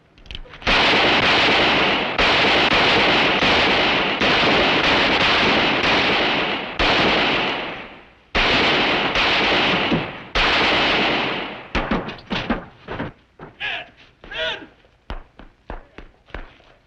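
Gunfire in a Western drama: long loud bursts of repeated shots and roaring reports for several seconds, then scattered sharper single shots and echoes trailing off, with a voice briefly in between.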